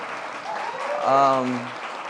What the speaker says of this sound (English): give a round of applause to Noemi, my partner in raising these small people